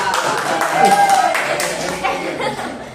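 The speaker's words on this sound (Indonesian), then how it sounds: "Beri tepuk tangan dulu kawan-kawan" Classmates in a school classroom give a brief scattered round of clapping, with light chuckles and voices talking over it.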